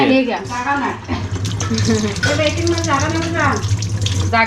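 Tap water runs steadily in the background while people talk loudly nearby.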